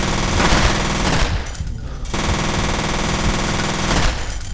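Sustained automatic gunfire in the shooter game F.E.A.R., loud and continuous bursts with a brief lull midway before the rapid firing resumes.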